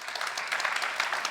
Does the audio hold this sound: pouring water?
no